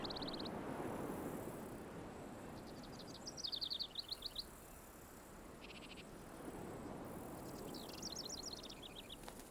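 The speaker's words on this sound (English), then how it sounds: "The island teems with small birds." Small birds call on Santa Catalina island in the Gulf of California, faint high chirps and quick twittering runs in scattered bursts over a soft background hiss, distant and quiet.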